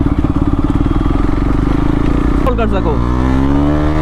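A KTM Duke 390 fitted with an SC Project CR-T exhaust idles with a loud, throbbing, close-up burble, then blips sharply and revs up into a rising engine whine, while someone speaks briefly over it.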